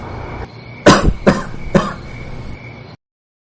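Three sharp coughs in quick succession, close and fairly loud, over a faint background hum.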